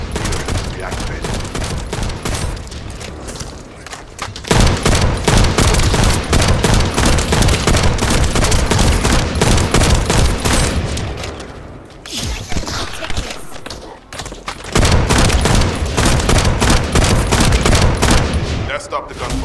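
Sustained automatic gunfire in The First Descendant, loud rapid bursts in long volleys with a brief lull midway, while characters' voices speak over the shooting.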